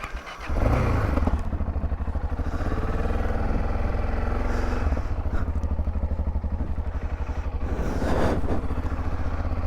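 A motorcycle engine starts up and rides off on a rural road toward a mudplain, its loud, steady mid-pitched drone close and continuous, with occasional thuds and clatter as it moves.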